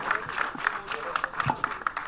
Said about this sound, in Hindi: जोरदार तालियां चाहिए मुकेश